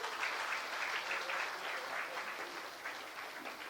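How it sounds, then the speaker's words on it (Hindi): An audience at a house-warming gathering applauds steadily, a continuous wash of many hands clapping at low level, heard alone for a few seconds. "तो आपके लिए तो तालियां बजाओ जोर से।"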